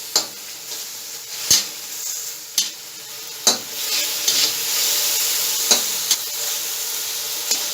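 Small pieces of chicken stir-fry in a hot pan with a steady bright sizzle, broken by sharp scrapes and clacks of the spatula against the metal every second or two.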